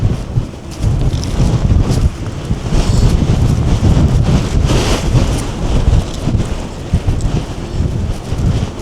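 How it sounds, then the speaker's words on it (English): Strong wind buffets the microphone, producing loud, rumbling low-end gusts that rise and fall continuously without letting up. "Quite a windy day today. Don't know if you can pick it up on the microphone."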